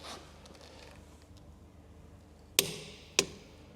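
Two sharp metallic clicks from a torque wrench snap out about half a second apart, close and crisp over a quiet background.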